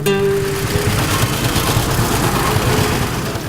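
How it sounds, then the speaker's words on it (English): A classic tractor engine chugs steadily while driving through the countryside, a loud close low rumble with a brief brighter whine at the start, running continuously without talk. "Driving through the country on a tractor seat"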